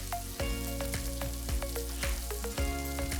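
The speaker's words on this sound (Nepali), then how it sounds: "यो अचारलाई झाल्नुपर्ने भएकोले तोरीको तेलमा म 1 चम्चा मेथी फुराउँदैछु।" Fenugreek seeds and turmeric frying in hot mustard oil for a potato and cucumber pickle, a steady close sizzle with crackling pops throughout, no talk.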